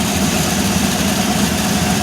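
The engine of a vintage Shelby Mustang idles after a coolant refill, a loud, steady low rumble with an even mechanical throb and no voices over it.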